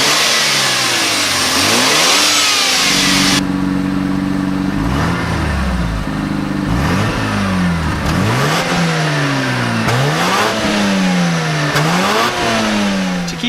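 A Mazda RX-7 FD with its 1.3-liter 13B twin-turbo Wankel rotary engine revs hard, first a loud sustained roar, then repeated sharp blips rising and falling over a buzzy idle, close and loud with no talk.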